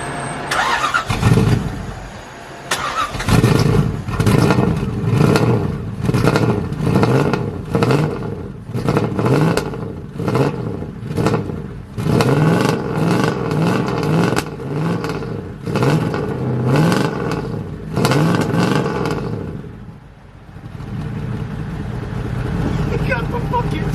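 A turbocharged Lexus LS400 engine cranks, catches and runs, then revs repeatedly in loud close bursts with brief dips before settling toward idle near the end.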